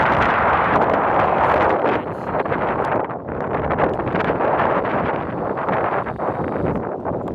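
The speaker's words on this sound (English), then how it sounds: "A bit windy when I point this way" Steady, loud wind buffeting the microphone, a continuous rumbling roar with no other sounds standing out.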